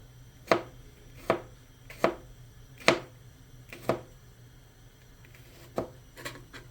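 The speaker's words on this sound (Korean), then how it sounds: "칼질은 배우면 좋아요." A kitchen knife chops ingredients for tuna pasta on a cutting board: about eight crisp, close knocks, spaced unevenly and slowing toward the end, with a faint hum underneath and no talking.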